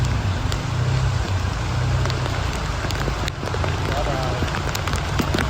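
Heavy rain pours onto a flooded street during a downpour in Can Tho city, a dense, steady hiss of water that runs the whole time while someone talks over it.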